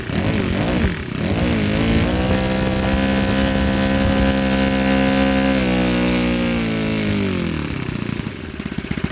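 An OS 91 four-stroke model aircraft engine with a standard alcohol carburetor and antique 14x7 prop runs on camp fuel, a loud, steady buzzing drone close by that shifts pitch slightly partway through.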